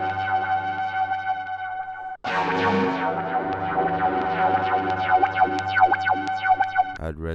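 A synth tone runs through an audio plugin filter with resonance and distortion, first a steady droning chord, then after a brief cut a brighter, gritty resonant sweep with repeated zipping filter movements, loud and continuous.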